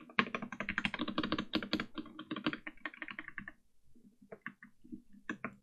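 Custom Wooting 60HE keyboard with lubed stabilizers and foam inside, typed on quickly and closely: a dense flurry of soft clacky keystrokes, then a short pause and a few scattered presses.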